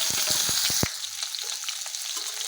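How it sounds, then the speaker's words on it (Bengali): Potatoes go into hot oil with cumin, dry red chilli and a bay leaf, bringing a burst of sizzling after a quick series of knocks, then a quieter crackle with a few scattered clinks. "এবারে দিয়ে দেবো আলু,"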